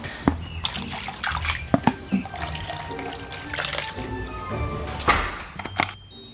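Water pours and splashes from a tap into a container for kittens on a farm, with trickling, dripping and clattering handling noises at moderate, close range.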